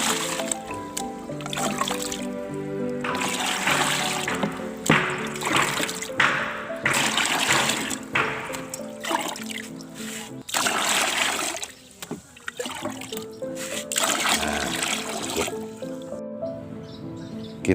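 Liquid JMS decomposer solution for composting dry longan leaves, weeds and grass is poured and stirred, with a steady sloshing, splashing flow that continues throughout, briefly breaking off near the end, over a faint tonal background.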